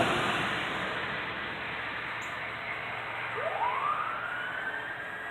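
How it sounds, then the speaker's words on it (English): A distant fire truck siren wail rises in the second half over steady broadband outdoor noise, faint and drawn out. "probably hear the volunteer fire department"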